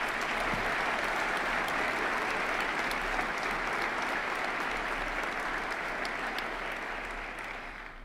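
Sustained, loud audience applause fills the hall for council member Wendell Young during a 2018 State of the City speech, steady throughout and easing slightly at the end.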